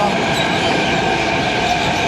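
A metro train runs through Jaipur, India, with a loud, steady roar of rolling wheels and rail noise that holds for the whole stretch without a break.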